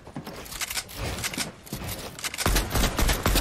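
Rapid gunfire bursts in the Fortnite video game, a run of sharp cracking shots in quick clusters growing louder and denser toward the end.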